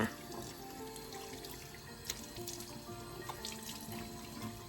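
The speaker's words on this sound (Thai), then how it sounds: "ล้างหน้ากับน้ำอุ่นนะคะ" Warm water runs from a tap into a bathroom sink while a face is washed, a steady close splashing stream with small drips and splashes breaking through, no voices.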